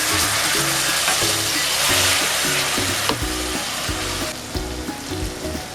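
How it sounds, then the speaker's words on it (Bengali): Mushroom masala for mushroom do pyaza frying in a pan over a medium flame, with a little water added, gives a loud, steady sizzle, with stirring noises and a few clinks that recur throughout. "এর মধ্যে আমি সামান্য একটু জল অ্যাড করছি।"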